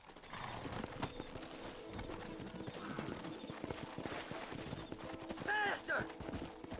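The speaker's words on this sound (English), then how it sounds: "Horses are over here." Horse hooves clip-clop at a steady trot amid ambient sounds in Red Dead Redemption, with a brief whinny near the end.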